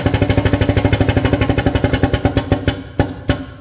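An ATEX-rated power clamp drum tipper clamping a barrel gives a steady, rapid mechanical chugging pulse, like a pneumatic pump or motor, that slows and breaks into a few separate thumps near the end, heard close and alone.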